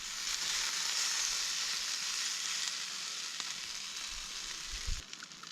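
Food warms in a pan over an outdoor campfire, giving a steady, fairly loud broadband sizzle and crackle throughout with a few low knocks near the end.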